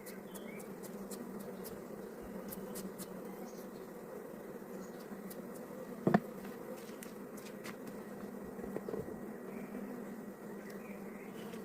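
A honeybee colony buzzes faintly and steadily at a hive in hot weather, a low continuous hum with an occasional sharp click or tap near the middle.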